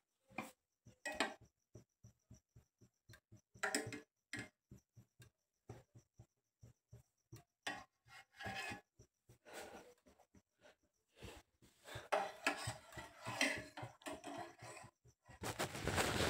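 A spoon stirring a coffee mixture in a cup, with quiet, rhythmic clinking taps in short bursts and pauses, close and faint in an otherwise quiet room.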